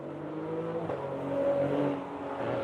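A Cadillac CTS-V on Michelin tyres launches off the line at an afternoon drag event, its engine note rising steadily and loud through a hard acceleration, with the rumble of other cars and crowd ambience behind it.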